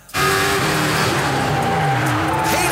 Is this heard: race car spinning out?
yes